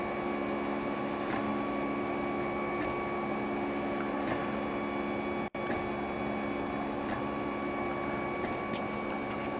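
A Prusa i3 3D printer runs steadily through its first print after bed leveling and Z-height adjustment, with a continuous motor whine and faint periodic ticks. A single sharp click cuts in midway.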